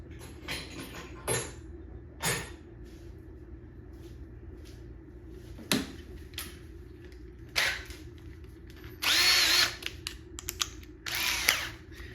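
A Bosch 12V cordless drill driver whirs in short bursts, several quick triggers followed by two longer high-pitched runs, close and fairly loud, with no speech.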